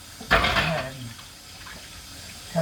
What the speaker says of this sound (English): And then I wash my peppers first. So I'll wash them.